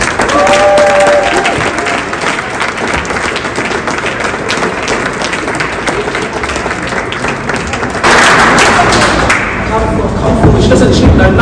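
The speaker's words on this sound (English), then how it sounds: "Give her a clap, please." An audience at an awards ceremony claps for a woman called forward to receive an award, a busy, loud round of applause with some thumping and voices mixed in.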